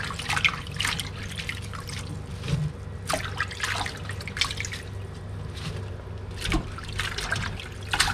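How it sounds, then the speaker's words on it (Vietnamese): Raw lettuce being rinsed in a basin of water, with steady trickling and splashing broken by irregular sharper drips and sloshes as leaves are moved about, no voices. "Bây giờ thì mình lật rau xong rồi mình rửa rau, rau sống để mình cuốn bì."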